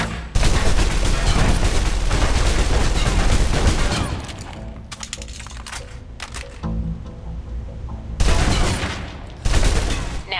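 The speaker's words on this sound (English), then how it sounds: "Now, let's move on to the submachine gun. Now let's empty the clip." A submachine gun empties a full magazine at a target on a firing range in the video game Alpha Protocol: a loud, rapid automatic burst that tapers into spaced single shots, then a few more sharp bursts.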